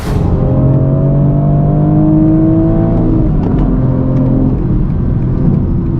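A BMW M4 G82 pulls away hard on its first drive, engine tone climbing steadily through the revs in a loud, close, continuous roar that eases slightly toward the end.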